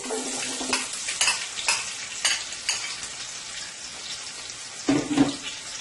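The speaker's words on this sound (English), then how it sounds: "my oil is pretty hot here now, so I am going to go ahead and I am going to add 1 large chopped onion" A large chopped onion goes into hot oil in a pot, setting off a crackling sizzle with spoon clinks and scraping as it is tossed, close and moderately quiet.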